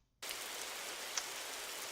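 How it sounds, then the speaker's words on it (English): Steady looping ambient rain set in a Unity game project, a dense even hiss of falling drops that starts abruptly after a brief silence and holds constant, alone with no voices. "ambient rain sound"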